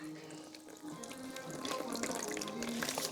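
Pineapple, cucumber and turmeric juice is squeezed through a fine mesh bag, giving a continuous wet trickling and splashing into a container that grows slightly louder, close by, with no talking.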